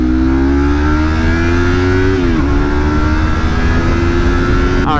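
A motorcycle engine runs steadily and loud while riding, its pitch holding then dipping briefly as if shifting before settling again, with constant wind rumble throughout and no talk.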